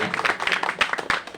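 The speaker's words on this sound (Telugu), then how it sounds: "గట్టిగా చప్పట్లు కొట్టండి." A church congregation claps loudly, a dense run of quick overlapping hand claps that keeps up steadily throughout.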